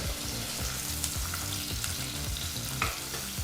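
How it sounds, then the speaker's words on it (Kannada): Sliced onion frying in a pan over a medium flame, a steady close sizzle broken by the occasional scrape and clatter of a spoon stirring, with no talking. "ಈರುಳ್ಳಿನ ಎರಡು ನಿಮಿಷಗಳ ಕಾಲ ಮೀಡಿಯಮ್ ಫ್ಲೇಮ್ನಲ್ಲೇ ಫ್ರೈ ಮಾಡ್ಕೋಬೇಕಾಗತ್ತೆ"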